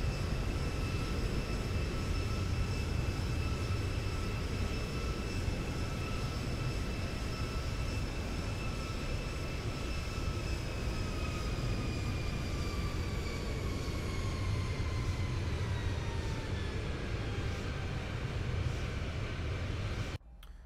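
Airliner jet engines in the X-Plane 11 flight simulator, Zibo mod, on descent toward JFK, roar steadily with whining tones that slowly drop in pitch as the engines spool down, continuous and loud with no talk.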